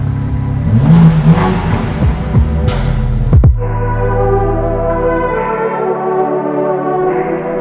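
A 2022 BMW M4 Competition engine cranks and catches with a loud roar, then settles into a deep, throbbing rumble that hums steadily close by.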